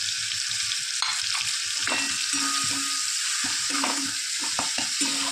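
Pea filling for koraishutir kochuri sautés in a pan with salt, ground cumin, ground coriander, dried red chilli and Kashmiri chilli powder, a steady close sizzle broken by repeated scraping stirs of a spatula, with no talking.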